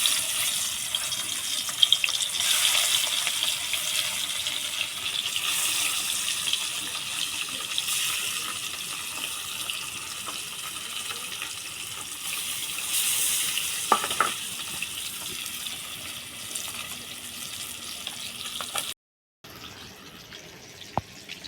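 Fish frying in hot mustard oil in a wok, a steady hiss and sizzle running under faint kitchen clatter and possible water noise, continuous and moderately close, cutting out abruptly near the end.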